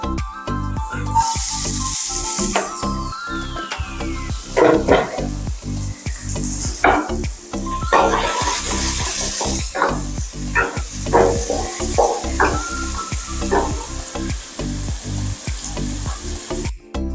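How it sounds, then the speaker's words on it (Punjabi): Finely chopped onion fries in a pan with a constant loud sizzle, while a spoon scrapes and clacks against the pan in frequent irregular stirring strokes, close up. "ਹੁਣ ਮੈਂ ਇੱਥੇ ਪਾਉਂਗੀ ਜਿਹੜਾ ਆਪਣਾ ਕੱਟਿਆ ਹੋਇਆ ਪਿਆਜ਼ ਬਰੀਕ ਕਰਕੇ ਰੱਖਿਆ ਸੀਗਾ ਉਹ ਪਾ ਦਾਂਗੇ ਇਹਦੇ ਵਿੱਚ"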